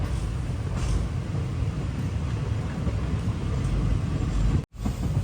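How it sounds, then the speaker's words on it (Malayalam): A train pulling into Manamadurai Junction railway station, a steady, loud low rumble of rolling wagons filling the scene, continuous throughout with a brief dropout near the end. "മനാമധുരൈ ജംഗ്ഷൻ റെയിൽവേ സ്റ്റേഷനിലേക്ക് ഇതാ നമ്മുടെ ട്രെയിൻ എത്തിക്കൊണ്ടിരിക്കുകയാണ്"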